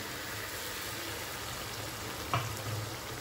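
Steady, close sizzle of tomato and ginger paste frying with browned onions for mutton kassa, a low even hiss with a brief stirring clatter near the end.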